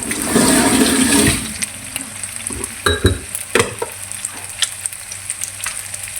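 Pork chop frying in a pan after being salted, a loud hissing sizzle for the first second that settles into quieter crackling and spattering pops.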